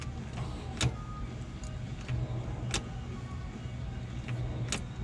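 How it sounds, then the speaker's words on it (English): Starter motor cranking the engine of a 1953 Ford Club Coupe, a steady close whirring drone punctuated by a few sharp clicks, with no talking. "I think the starter's turning."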